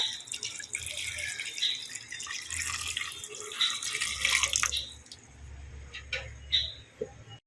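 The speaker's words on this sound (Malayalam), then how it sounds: "ഞാൻ ആ പാൽ ഒഴിക്കാൻ പോവാണേ" Thin coconut milk pours into a pot with a soft trickling splash, gradually settling into drips near the end; low background hum underneath.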